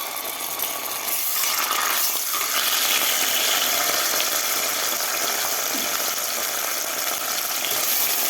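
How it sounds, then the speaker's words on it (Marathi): Onion with ginger garlic paste sizzles and sautés steadily in a pan of hot oil for Indian-style chicken soup, a continuous close hiss with no talking. "कांदा आणि अद्रक लसूणची पेस्ट आपल्याला व्यवस्थित परतून घ्यायची आहे"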